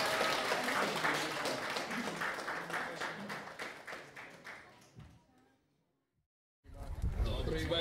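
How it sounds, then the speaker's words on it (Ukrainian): Guests at a Ukrainian wedding reception in Mazurivka–Pidhirtsi clap together in a lively round of applause that gradually fades to silence, followed by a sudden loud burst of sound. "давайте більше оплесків не жаліємо"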